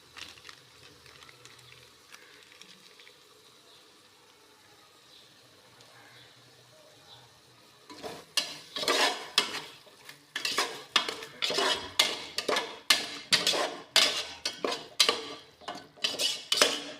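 Yogurt masala for chicken biryani is stirred in a metal pot, with a rapid series of loud, sharp scraping and clanking strokes following a quieter stretch of faint frying sizzle.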